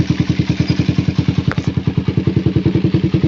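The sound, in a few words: Suzuki Satria FU motorcycle engine starting and running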